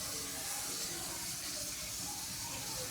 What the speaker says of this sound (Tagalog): Dami ng talsik ng mantika.